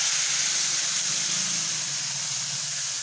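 Chickpeas frying in a pan with turmeric, ground cumin and a little chili, a continuous close hiss and sizzle with faint low crackle, steady throughout and without talk.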